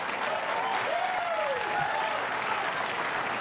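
A crowd at a men's doubles gold medal match applauds a winning shot with steady, sustained clapping, fairly distant, while an announcer's voice rises over it.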